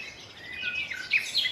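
Loud forest birds calling and chirping from the treetops as tabletop game ambience, a dense shrill chorus that swells toward the end with sharper bursts of calls, no voices.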